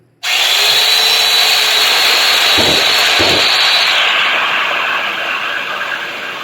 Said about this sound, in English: So that's what the machine is doing. It's spinning and oscillating.